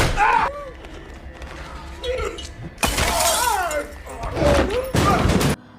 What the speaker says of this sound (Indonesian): tiba-tiba saja Norman menembak kaca tersebut sehingga Alex terjatuh ke dalam rumah Norman